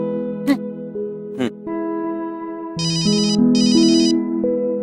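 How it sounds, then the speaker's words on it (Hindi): After a call is placed, a phone ringtone plays loudly and close, a melodic electronic tune with repeating ring bursts near the end and a brief voice sound early on. "अब जेलो जी, फोन लगाया जाए शिखा जी को तुरंत प्रभाव से"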